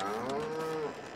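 Cows moo inside a barn in Farming Simulator 22 on the Bellingwolde map, one long, loud, close bovine call with a wavering pitch that fills the whole moment alone.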